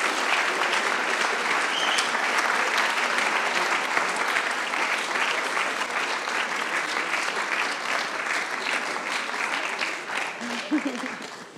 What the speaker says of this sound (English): Can I give them a big applause?